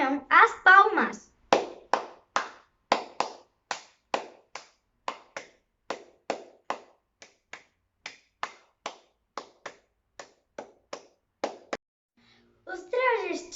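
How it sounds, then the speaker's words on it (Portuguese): Flamenco palmas: sharp handclaps in a steady rhythm, about twenty crisp strikes spaced under a second apart, close and dry, with brief speech at the start and the end. "E também, como não, as palmas."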